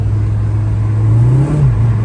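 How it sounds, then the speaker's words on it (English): A Honda-style car engine fitted with a Skunk2 Ultra intake manifold and ZDX throttle body hums steadily at high revs in 5th gear, revving without pulling, its pitch rising and dipping slightly, loud and close with no other sounds. "It's just revving."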